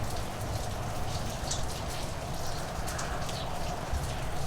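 Steady rain patters continuously on a surface, a dense, even hiss of drops with no talking, heard while a 1987 Yamaha Banshee is being rebuilt.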